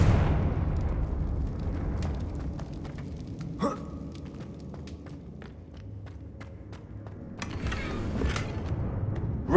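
Confringo blasting spell from a Hogwarts video game: a sharp explosive burst near the middle, with a second crackling blast later, over a steady low rumble of game ambience.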